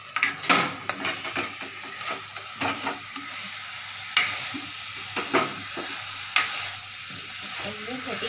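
Chickpeas for ghugni being stirred in a sizzling kadai, a spoon scraping and clinking against the pan in irregular strokes over a steady frying hiss, close and alone.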